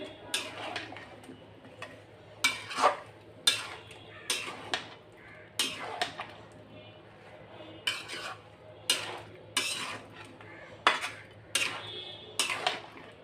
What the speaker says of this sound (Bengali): তো বন্ধুরা, এই আমটা কষিয়ে নিচ্ছি।